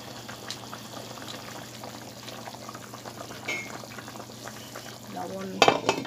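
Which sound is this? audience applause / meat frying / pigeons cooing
meat frying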